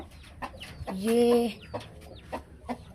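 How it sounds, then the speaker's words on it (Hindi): An Aseel hen with a brood of chicks on a farm gives a few soft, close clucks, with one drawn-out, louder call in the middle, over quiet background rustling. "ये मुर्गी, इसने बच्चे निकाले हुए हैं"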